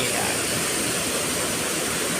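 Water pours over a weir spillway at the Kaeng Bat Ta Ngoi waterfall in Tao Ngoi district, a loud, steady, dense roar that continues unbroken, with no voices.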